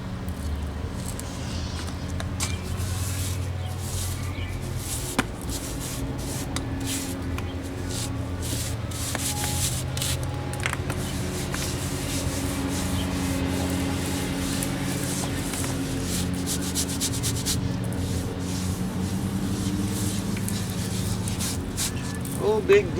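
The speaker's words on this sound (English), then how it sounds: "Rub that in there. That's going to hide those cracks." A concrete patch being rubbed into cracks makes a continuous gritty scraping, near and fairly loud, with short rasping strokes throughout and someone talking over it.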